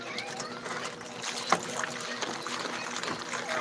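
A wok with leftover oil being scrubbed and rinsed outdoors in water, with faint splashing and trickling, a sharp clank partway through, and a soft background wash.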